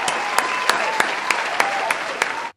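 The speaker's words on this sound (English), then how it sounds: "Let's give a round of applause" A short burst of steady applause, dense clapping with a few sharper accents, cutting off abruptly after a couple of seconds.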